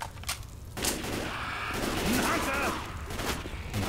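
Rapid bursts of gunfire from the zombie shooter Left 4 Dead 2, set in a department store, crackle loudly and keep coming, with players' voices faintly mixed in.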